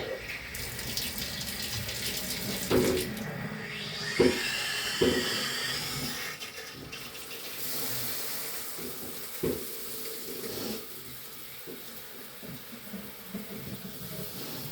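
Water runs from a tap into a tub for a bath, a steady close hiss and splash that goes on throughout, broken by a few knocks and clunks, with brief quiet voice sounds.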